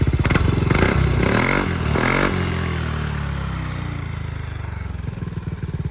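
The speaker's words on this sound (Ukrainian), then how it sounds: "так як тут повна система, то звичайно вихлоп цікавіший" A Yamaha scooter (NMAX 155 or Majesty 155) fitted with a full aftermarket exhaust system idles and revs close by, with a deep burbling exhaust note, a few rising throttle blips and then a steady rumble, with no voices.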